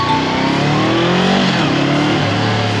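A big bike motorcycle engine revs hard while downshifting on a late-night ride, close and loud, its pitch rising and falling in quick sweeps with the engine roar continuous throughout.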